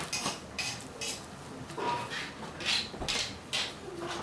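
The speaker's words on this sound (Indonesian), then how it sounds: "Ya nasinya merata, ya aduk-aduk, jadi matang merata." A utensil scrapes and clinks against a pot as rice is stirred in boiling water, with repeated uneven stirring strokes, fairly quiet and close.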